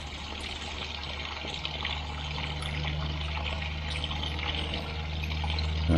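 Water runs from a tap through a garden pond filter in a close, continuous splashing trickle, with a low pump hum steady underneath.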